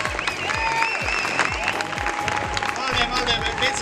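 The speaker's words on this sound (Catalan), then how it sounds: "anem a assajar els aplaudiments" Graduating students applaud their tutors during a rehearsal for a graduation ceremony, dense clapping from a crowd, loud and continuous, with voices and shouts mixed into the applause.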